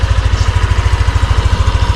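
Motorcycle engine idling up close, a loud, even low-pitched putter pulsing rapidly and steadily for the whole moment.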